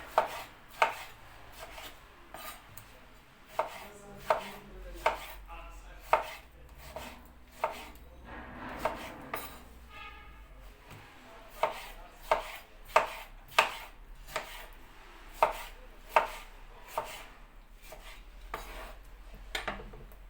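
A knife cuts tomatoes into cubes on a board, giving crisp, evenly spaced chops, about twenty strokes in a steady rhythm, close and clear with no talk.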